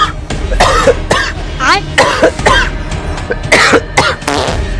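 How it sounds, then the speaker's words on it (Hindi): A sick man coughs repeatedly in harsh, close bursts, with some throat clearing between them. "ये देखिए, मुझे खांसी हो चुके, मैं बीमार हूँ"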